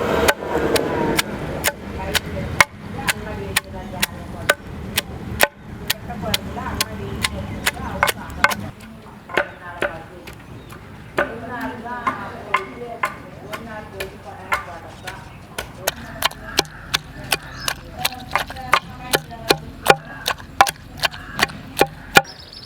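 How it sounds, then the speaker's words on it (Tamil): Field crabs for rasam are pounded in a stone mortar, producing a steady series of sharp, close thuds with a voice talking over the early part. "நல்லா வந்து இடிச்சாச்சு நண்டு எங்கேக்குதுன்னே தெரில நஞ்சிருச்சு அப்படியே ஸோ உரலேருந்து எடுத்துடலாம்"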